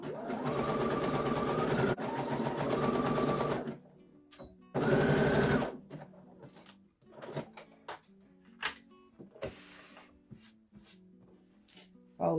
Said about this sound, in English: So I'm going to zigzag the edge.